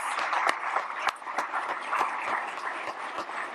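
Conference audience applauding a panel of chefs and a moderator, a dense, steady wash of many hands clapping at full volume throughout, with no voices over it.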